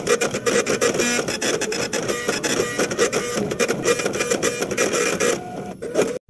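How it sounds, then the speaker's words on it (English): A printer runs continuously, its rapid mechanical clatter and whirring rising and falling in rhythm as a sheet of paper feeds through. The noise stops abruptly at the end. "Done, time to print it."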